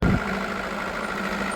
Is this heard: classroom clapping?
no